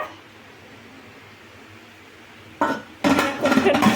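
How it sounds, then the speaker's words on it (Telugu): A metal lid set onto a cooking pot while making junnu, colostrum pudding, in a home kitchen: a quiet stretch, then a short clank followed by a louder rattling clatter of metal on metal. "సో ఇలా మూత పెట్టేయాలి ఇలా పెట్టినా పర్లేదు రివర్స్లో పెట్టినా పర్లేదు"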